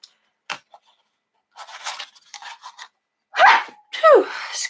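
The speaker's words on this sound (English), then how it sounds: "I'm going to sneeze." A short, sharp sneeze bursts out after a few quiet breathy sounds and soft movements, followed by a second shorter burst close to the microphone.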